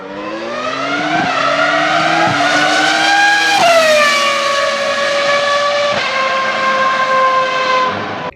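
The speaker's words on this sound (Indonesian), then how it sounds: "Ketika orang berpikir tentang F1, inilah suara yang mereka ingat. Suara dari V10" A Formula 1 car's V10 engine wails loudly at high pitch, its tone climbing and then dropping sharply through several quick gear changes over about eight seconds.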